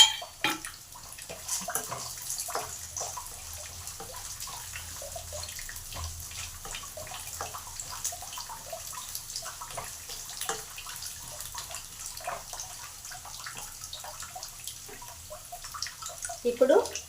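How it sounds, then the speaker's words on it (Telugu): Okra sizzles as it fries in a pan for a ladyfinger fry, giving irregular soft crackles and spits over a low background, with a voice talking throughout. "ఇవి బాగా 2 నిమిషాలు బ్రౌన్ కలర్ వచ్చినాక వేయించుకుందాము"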